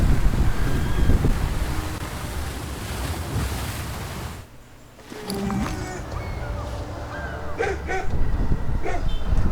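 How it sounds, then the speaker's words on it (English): Dogs bark in the shipyard ambience of the World of Warships dockyard, where a Spanish cruiser is being fitted out. Several sharp, scattered barks sit over a steady rushing, surf-like wash of background noise. "I hear the dogs barking."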